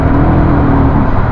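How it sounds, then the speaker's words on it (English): A loud, continuous engine roar from a 2002 BMW M5 E39, droning steadily and close up. "listen to the sound of that engine"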